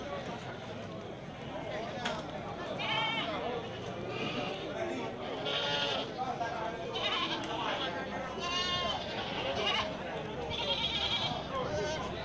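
Goats, including young male kacang goats, bleat repeatedly amid a busy livestock market crowd in Geurugok, their wavering calls rising over steady background chatter and market noise.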